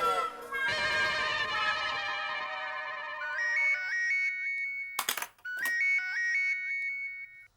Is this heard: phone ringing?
yes